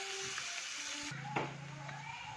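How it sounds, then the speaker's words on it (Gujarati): Onions frying in a pan, a soft, steady sizzle heard faintly under low tonal background sounds and a brief clack. "તો ચાલો હવે ડુંગળીને મસ્ત શેકાવા દઈએ આપણે"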